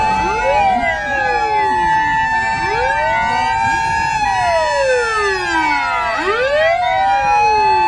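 A toy fire engine siren wails in rising and falling sweeps, loud and close, repeating in overlapping electronic cycles with no talking.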